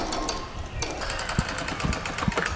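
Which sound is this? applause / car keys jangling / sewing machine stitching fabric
sewing machine stitching fabric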